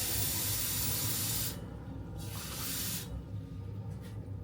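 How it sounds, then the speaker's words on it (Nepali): Water pours into a cooking pot for a mutton pulao, a broad steady rushing splash that stops briefly twice and resumes, fairly close and moderately loud, with no voices. "ल मैले यसमा पानी हालेँ होइन"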